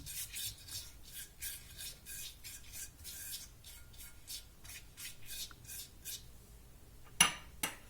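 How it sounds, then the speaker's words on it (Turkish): A pastry brush spreads oil across a sheet of yufka dough in quick, rhythmic scratchy strokes, close and quiet, ending with a brief clink. "Öncelikle fırça yardımıyla sıvı yağını yufkaya her yerine gelecek şekilde sürüyorum."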